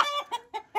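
A pale crossbreed hen with blue legs clucks loudly while being weighed, giving four short, agitated squawks close by with no talking over them.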